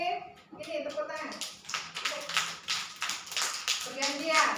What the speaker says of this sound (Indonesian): Ini tepuk tangan.